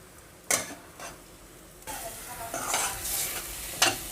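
Onions frying in oil with ginger garlic paste for a fish fry, with a few sharp spatula scrapes early on, then a steadier close sizzle and stirring that builds toward the end.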